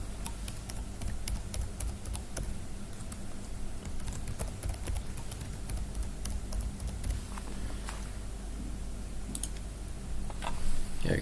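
A password typed on a computer keyboard, a quick run of soft, close key clicks and taps over a low hum, fairly faint, with a slightly louder burst near the end.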